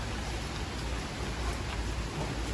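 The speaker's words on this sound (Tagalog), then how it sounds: "At ay ulan na, ulan na oh." Steady rain pouring down on garden plants outdoors, a dense continuous patter close by with no voices over it.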